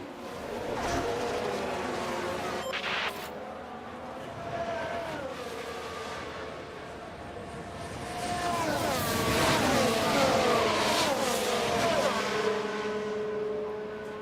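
Formula 1 race car engines in F1 Manager 2013 at the Great Britain race whine past at high revs, several cars rising and falling in pitch as they sweep by, moderately loud and continuous.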